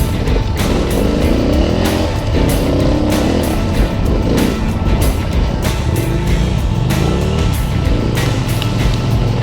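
Suzuki DR650 and KTM 950 motorcycles ridden on a dirt track, a loud continuous engine roar with rising and falling revs throughout, close and unbroken.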